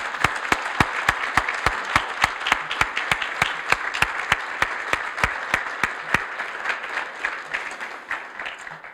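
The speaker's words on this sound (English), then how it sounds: "So please join me right now in a round of applause for our speakers this evening." An audience at an Idaho Listens evening event in Twin Falls applauds its speakers, with sharp, evenly spaced claps in a steady rhythm over a continuous wash of clapping that holds at even loudness throughout.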